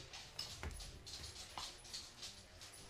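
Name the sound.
dogs whining to be let outside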